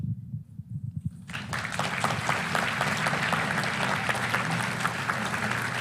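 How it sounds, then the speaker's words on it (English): Audience applause at a national conservative event, starting after a brief low rumble and swelling into a steady, dense round of clapping from a large crowd that carries through to the end. "Everyone, please give one more round of applause for Riley Gaines"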